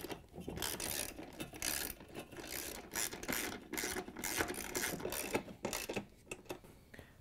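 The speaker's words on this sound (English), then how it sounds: "we can use the 1/2-inch socket and ratchet to put the screws in" A hand ratchet with a 1/2-inch socket drives screws into a GE washer's platform, giving a steady run of rapid clicking and rasping mechanical strokes, fairly close and continuous, with no talking.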